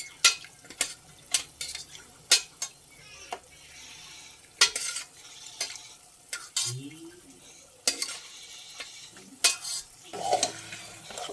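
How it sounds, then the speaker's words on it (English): Pieces of pork trotters being stirred in masala in a pan, with repeated scraping and clacking of a spoon against metal over a gentle sizzle, in uneven bursts. "We mix it well and leave it to cook for a little while till the masala, these pieces capture the flavor of the masala"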